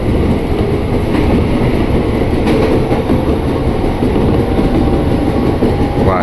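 Inside a KRL commuter train on the Rangkasbitung line leaving Pondok Ranji station near Jakarta, a loud, steady rumble of wheels on rails with faint rhythmic clatter and a brief squeal.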